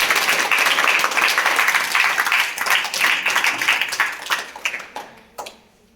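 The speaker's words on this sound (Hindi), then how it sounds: "सदन की शुरुआत सदैव की भांति जोरदार तालियों के साथ" Students seated outdoors at a school maths assembly break into loud, dense applause that holds steady for several seconds, then thins out and fades to a few last claps.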